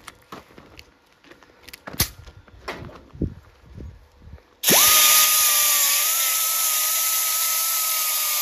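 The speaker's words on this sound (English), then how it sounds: "I'm gonna take my grinder and grind a little bit off this edge here." An angle grinder bites into the edge of a steel patch panel for a 1964 Chevy Impala, starting abruptly with a loud, steady high-pitched whine and scraping after some quieter clunks and taps.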